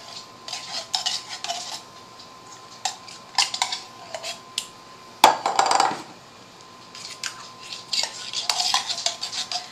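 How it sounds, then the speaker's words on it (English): Lean ground beef and cream of onion soup being mixed in a bowl, with irregular scraping and clinking of a utensil against the dish, moderately close, plus one sharper knock midway. "take a pound of lean ground beef, just mix it in this bowl"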